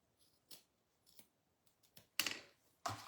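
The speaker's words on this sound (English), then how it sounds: "I'm going to snip my ends off" Ribbon scissors snip loose thread ends on a small embroidered bunny in a hoop, giving a few quiet separate clicks and then two sharper, louder snips near the end, with no voices.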